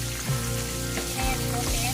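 Adobong isda, fish in adobo, frying in a pan while being stirred, a constant loud sizzle with a few soft scrapes of the spoon through the oil, close up and without speech.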